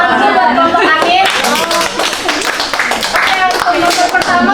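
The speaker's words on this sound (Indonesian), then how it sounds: "Tepuk tangan dulu buat kelompok Anin." Classroom clapping from a group of students cheering a team, brisk dense hand claps for several seconds with voices chattering underneath.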